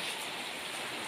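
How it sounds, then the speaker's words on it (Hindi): Steady rain falls as an even, close hiss of drops on surfaces, continuous and alone with no voices. "बारिश हो रहा है दोस्तों"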